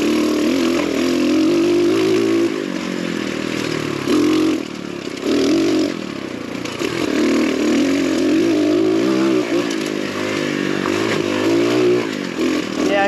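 An X Pro Storm DLX 250 ultralight dual sport motorcycle ridden gently during break-in, its engine droning steadily and loud throughout with slight pitch shifts and brief dips, plus rattling, scraping clatter and wind noise close by.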